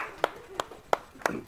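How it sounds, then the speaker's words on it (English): Four sharp claps in a university finance class, spaced evenly about a third of a second apart, close and distinct, with faint room murmur between them. "hand of applause, hand of applause"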